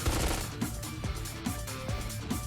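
Gunshots ring out in the mobile action game Devil May Cry: Peak of Combat, with repeated sharp blasts spaced under half a second apart over a dense, loud wash of game sound, with no talk.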